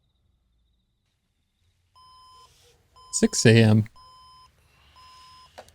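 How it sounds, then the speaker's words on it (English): Alarm clock from the TV series Breaking Bad beeping in short, thin, evenly spaced bursts, quiet and repeating, interrupted once by a brief spoken line. "That is a quiet alarm."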